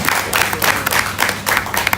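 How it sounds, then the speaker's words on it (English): Audience at a women's business event clapping in a brief, steady burst of applause, fairly loud and even throughout. "I think that deserves a round of applause."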